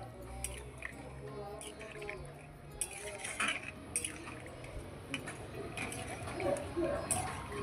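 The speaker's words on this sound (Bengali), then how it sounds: "জল দিয়ে আবারও ভালোভাবে নেড়েচেড়ে নিচ্ছি।" Potato curry is stirred in a pot after water is added, with soft wet squishes and light clinks and scrapes of a spoon against the metal, fairly quiet and close.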